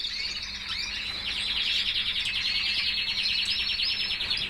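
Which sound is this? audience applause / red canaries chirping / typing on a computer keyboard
red canaries chirping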